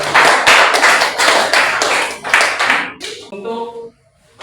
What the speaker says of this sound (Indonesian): Berikan tepuk tangan untuk teman-teman kalian.